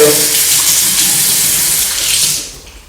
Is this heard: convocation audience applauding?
no